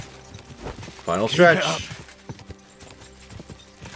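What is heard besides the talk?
horse hooves galloping in video game Kingdom Come Deliverance 2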